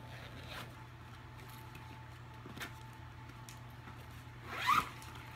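Zipper on a Disney carry-on bag pulled open in one quick, close burst near the end, following a few seconds of quiet room tone with faint handling bumps.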